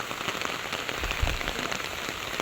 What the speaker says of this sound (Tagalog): Malakas po talaga yung ulan.